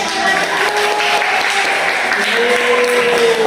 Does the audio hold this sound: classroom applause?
yes